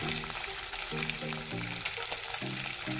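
Stuffed fish frying in a pan gives a steady close sizzle and soft crackle, with a low background hum and no voices.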